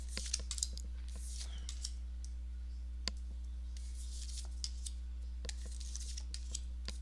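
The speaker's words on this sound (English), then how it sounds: "I'll just lay the cards down here." Tarot cards laid down one by one for a reading, giving a scattered series of soft, brief clicks and slaps over a steady low electrical hum, with no talking.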